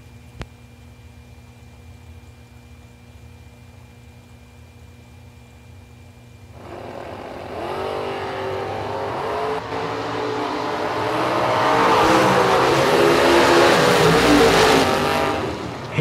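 A Nova and a Corvette run a drag race, starting with a low idle hum before a loud engine roar rises and swells into a sustained, rasping acceleration that stays strong to the end.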